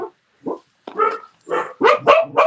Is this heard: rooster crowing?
no